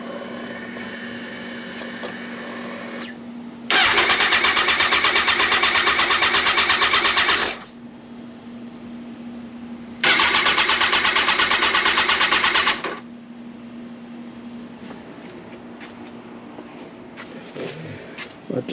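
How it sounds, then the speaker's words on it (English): A Kawasaki ZX-10R sport bike, parked outside after a valve clearance job, is cranked and runs in two loud bursts of a few seconds each, separated by a quiet stretch with a faint steady hum. "Bike outside now. I'm gonna start it up"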